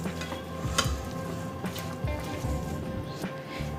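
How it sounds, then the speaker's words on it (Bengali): Masoor dal mixed by hand with coriander powder, spices and oil: steady soft squishing and stirring with faint clinks of a bowl, close and continuous. "খুব ভালো করে এবার এটাকে আমি মেখে নেব।"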